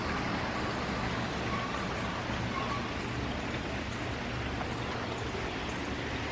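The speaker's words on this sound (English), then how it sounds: "It's been raining really since last night" Steady rain falls during a windy tropical storm, a constant dense hiss of drops on surfaces that continues evenly throughout with no break.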